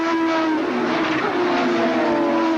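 1986 IMSA Camel GTP prototype race cars passing at Laguna Seca, a close, loud engine howl with a strong sustained tone that shifts in pitch as the cars go by, no talk.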